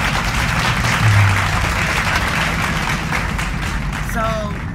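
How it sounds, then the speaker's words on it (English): A round of applause for a performer at a family gathering, steady mixed clapping from a small group with faint voices underneath and a brief whistle-like tone near the end. "Ladies and gentlemen, give him a round of applause"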